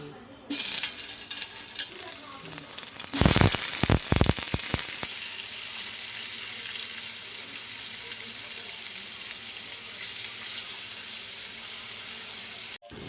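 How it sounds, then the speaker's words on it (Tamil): Cubed paneer dropped into hot oil in a kadai for a paneer gravy, an initial loud crackle and spatter followed by a steady, close, continuous sizzle with no talk. "எண்ணெய் கொஞ்சம் ஊற்றிருக்கேன். இப்போ சூடானதையும் நம்ம இதை கட் பண்ணி வச்சுக்கிற பன்னீரை போட்டுக்கலாம்"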